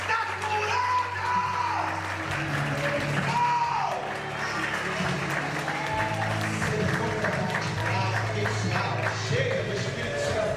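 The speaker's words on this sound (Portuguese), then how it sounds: "Aplaude você." Congregation applauding at a church service after a woman is declared healed, steady clapping and crowd noise throughout with sustained tones and voices mixed in underneath.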